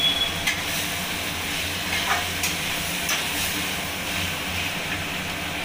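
Chicken and fried potatoes are stirred in a sizzling frying pan, a steady close hiss of frying broken by scraping strokes of the spoon.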